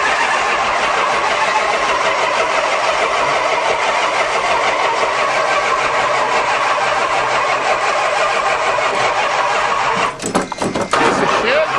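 A 1976 Chrysler New Yorker engine cranking on its first start after 17 years sitting, a loud steady churning drone for about ten seconds that ends in a few rough sputters and catches.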